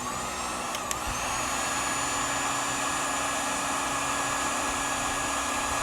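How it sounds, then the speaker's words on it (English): Heat gun blowing steadily in a classic truck repair setting, a constant loud whooshing hiss with a high whine, unbroken for several seconds after a brief click near the start. "Turn the heat gun on."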